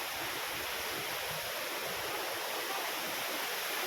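Small waterfall near a Shiva temple on the way to Papanasam, a steady dense rush of falling water, close and continuous with no other sounds.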